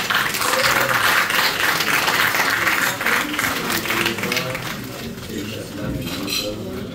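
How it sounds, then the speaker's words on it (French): Applause at a football club's 50th anniversary gala, dense clapping from a crowd that fades slightly over several seconds, mixed with clinking and a little talk. "Une belle applaudissement, s'il vous plaît"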